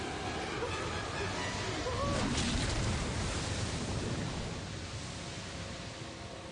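Sea waves wash in as a broad, steady surf hiss that swells midway and then eases back, fairly soft, with no voices over it.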